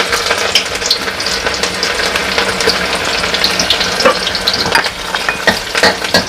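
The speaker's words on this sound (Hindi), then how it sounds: "एक गांठ लहसुन को इस तरह से छील के कट कर दिया है, उसे भी मैं इसी ऑयल में डाल देती हूँ।" Chopped garlic frying in hot oil while making Kondaji chivda, a steady loud sizzle broken by scraping stirring strokes throughout, close by with no talking.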